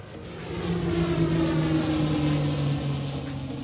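An airplane drones past with a steady, fairly loud engine hum and a low tonal whine that holds throughout, thinning slightly toward the end.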